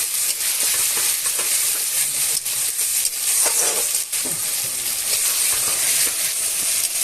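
Masala spice paste frying hard for a chicken curry cooked at a night picnic: a loud, dense, continuous sizzle with occasional stirring scrapes and no voices.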